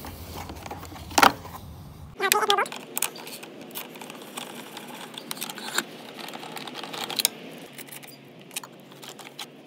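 Removing the cover from a Briggs and Stratton lawn mower engine makes a sharp plastic knock, then a cluster of clicks, rattles and light clatters close to the mic, with short pauses between them.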